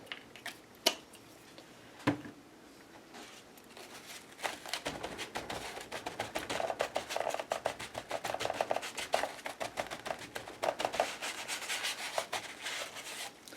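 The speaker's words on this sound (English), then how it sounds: "Hit that with my sandpaper" Sandpaper rubs back and forth over a painted, freshly sprayed surface in quick, uneven strokes after a couple of sharp knocks, close and fairly quiet, with no talking.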